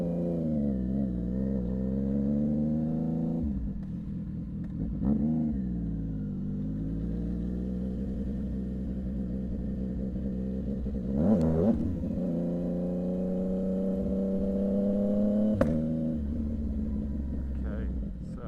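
A motorcycle engine idles and then revs as the ride begins, giving a steady close rumble with rising and falling pitch and a few throttle surges, and a voice talks over it at times.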